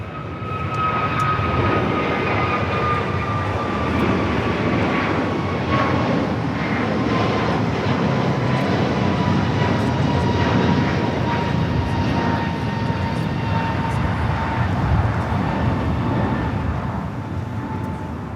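An airliner departing LAX on a flight to Charlotte roars with steady, loud jet engine noise throughout, a continuous broadband rumble with a whining tone and no talking.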